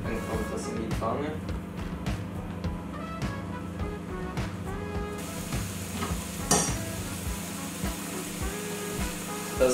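Food sizzles in a frying pan greased with a little cocoa butter, a steady crackling hiss with scraping stirs and clinks of utensils against the pan, close up, while a person talks over it.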